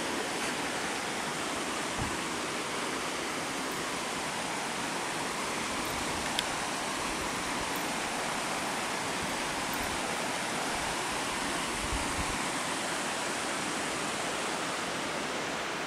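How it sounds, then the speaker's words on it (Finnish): Small stream flowing beside a bridge in Senja, northern Norway, a steady close broadband rush of water with no pauses, loud and unbroken for the whole stretch. "Siellä menee ihastuttava puroinen."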